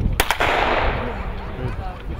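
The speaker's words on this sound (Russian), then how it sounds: "Стрельба исключительно из пистолета Макаров." Shots from a Makarov pistol at the firing line of a police biathlon, aimed at balloon targets: two sharp, loud cracks close together near the start, then a reverberant outdoor wash that slowly fades.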